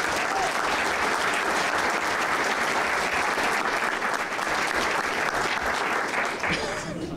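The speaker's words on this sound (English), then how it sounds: "Give Phil a round of applause" A conference audience at a security event applauds Phil, loud and sustained, a dense and even clatter of many hands close by that tapers slightly at the end.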